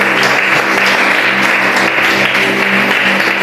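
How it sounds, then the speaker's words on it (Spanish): A church congregation applauds steadily for a few seconds, a dense, sustained wash of many hands clapping in a large room. "Ahora dale su mejor aplauso a la palabra de Dios"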